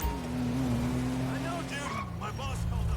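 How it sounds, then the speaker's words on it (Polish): A car engine in the video game GTA Online drones steadily, its pitch sagging and then climbing as it revs, with people talking over it toward the end. "Słyszał pan ten dźwięk? No ten dźwięk silnika warto"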